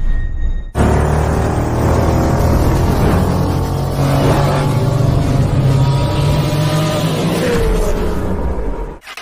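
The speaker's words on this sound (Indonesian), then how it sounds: "Ada mobil putih datang teman-teman ya." A white car pulling up outside a house beside a small shop, its engine rumbling loud and close, with a steady low drone and a few rising whines as it moves in and settles.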